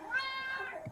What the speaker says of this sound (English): This cat, bro.